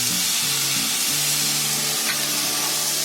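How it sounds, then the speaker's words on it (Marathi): Lemon rice fries in a hot pan with a loud, steady sizzle and crackle that persists evenly throughout, close up and with no voices. "आता आपल्याला थोडा फ्राय करत राहायचा."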